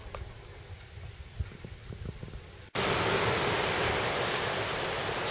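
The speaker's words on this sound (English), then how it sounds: "you can also see the amount of water that's just shifting in" A mini tsunami surge of water shifts into a narrow marina entrance, first a soft, faint wash with small splashes, then an abrupt cut to a loud, continuous rushing roar of moving water.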